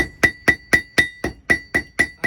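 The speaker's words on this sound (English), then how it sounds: "I started hammering on that out on the horn" Blacksmith hammering hot metal on the horn of an anvil, eight evenly spaced ringing strikes about a quarter second apart, each with a bright metallic clang, close and loud.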